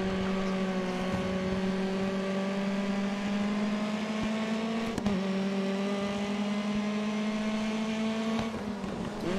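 Race car engine in the Grid Autosport racing game pulling hard on a final lap, a loud steady drone with layered rising harmonics and a brief sharp knock midway, with no talk.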